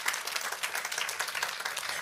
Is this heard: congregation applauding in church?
yes